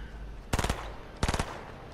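Gunfire in Fortnite, two quick bursts of four or five rapid shots each, close and punchy, separated by a brief pause with no talk over them.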